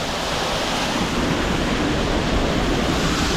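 Water pours steadily down Kenmere Falls, an off-track waterfall in Tasmania, Australia, making a loud, continuous broadband rush up close with no voices.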